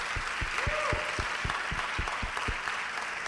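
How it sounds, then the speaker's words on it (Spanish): A church audience applauds parents and children, a steady moderate clapping with scattered low thumps and a brief voice over it. "Deme un aplauso a estos padres y estos hijos."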